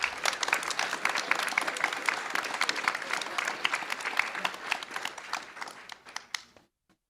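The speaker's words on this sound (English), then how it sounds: "Let's give her one more round of applause" Audience applause fills a school board meeting room: many hands clap in a brisk, even patter for several seconds before tapering off and fading to silence near the end.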